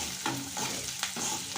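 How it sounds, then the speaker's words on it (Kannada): Onions with curry leaves fry in oil with mustard and cumin seeds, a steady close sizzle broken by several brief scraping stirs of a spatula in the pan. "ಚೆನ್ನಾಗಿ ಫ್ರೈ ಮಾಡ್ಕೊಳ್ಳಿ."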